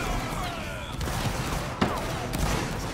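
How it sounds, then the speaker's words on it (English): Musket fire crackles in a Napoleonic Wars battle game, with scattered distant shots and a couple of sharper reports from a line of infantry amid a continuous battlefield din. "Come on, shoot. Keep firing,"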